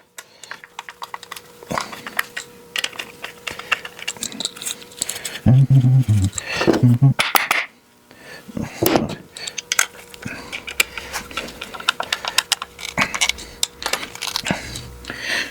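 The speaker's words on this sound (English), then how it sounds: "I'm just going to tighten these screws down" Screws being tightened down on a 6x8 carry-on utility trailer tailgate with a hand tool, giving close, rapid clicking and ratcheting ticks in bursts, with a louder scraping stretch partway through.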